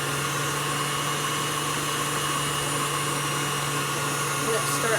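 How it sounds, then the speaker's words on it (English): An electric mixer whirs steadily at a constant pitch, beating Black Forest gateau cake batter in a bowl, a continuous loud drone with no breaks, under a voice talking. "You want to mix that well until it blends and combines pretty good."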